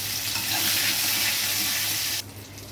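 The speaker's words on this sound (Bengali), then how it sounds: "এবার আমি দিয়ে দিচ্ছি কেটে রাখা আমের টুকরো দিয়ে।" Mango pieces hit hot oil in a frying pan for a tangy hilsa fish curry, a loud close hissing sizzle that holds steady and then abruptly drops to a softer fizz.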